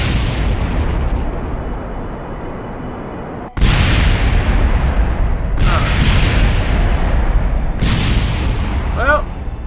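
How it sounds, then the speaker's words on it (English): Loud game explosions as a fuel tank crashes into the surface in Kerbal Space Program: a sharp cut followed by three heavy booming blasts with rumbling tails, one after another over a constant roar. "watch this fuel tank crash into the surface."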